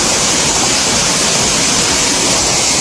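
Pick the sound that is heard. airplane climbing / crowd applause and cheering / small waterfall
small waterfall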